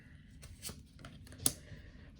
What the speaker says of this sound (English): Stop shuffling